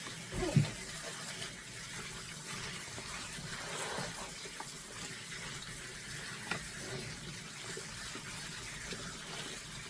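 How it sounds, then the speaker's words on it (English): Potatoes being washed under a running tap in a kitchen sink, a steady, fairly quiet rush of water with light splashing and no talk. "So let's go ahead and wash our taters."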